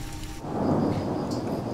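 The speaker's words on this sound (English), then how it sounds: "That's a big roll of thunder." A big roll of thunder rumbles at night in the mountains of Laos, a deep, loud, sustained growl over steady rain, starting abruptly after a brief quieter moment and continuing without voices.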